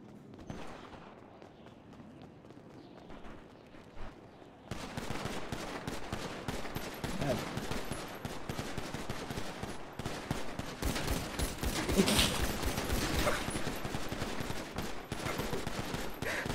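Gunfire in a roleplay video game, quiet at first, then dense rapid bursts of shots that run on continuously, fairly loud.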